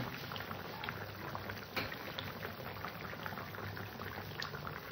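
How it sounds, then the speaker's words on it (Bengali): A vegetable curry boils steadily in a covered pot, giving a continuous dense bubbling and hissing with no pauses and no voices. "এবার সুন্দর করে ফুটিয়ে নেবো তরকারিটা।"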